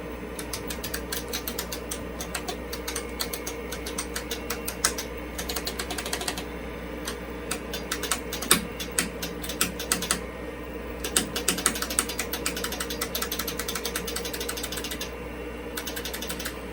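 Typing on an IBM PC keyboard: steady, fast clattering keystrokes continue for the whole stretch with brief pauses, close and fairly loud, with no talk.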